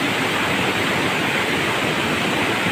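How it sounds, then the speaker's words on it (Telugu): A steady, loud rush of falling water at Lidangi waterfall, a continuous broadband roar with no pauses, heard close up. "water fall"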